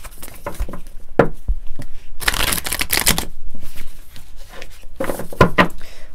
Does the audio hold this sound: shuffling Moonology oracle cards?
yes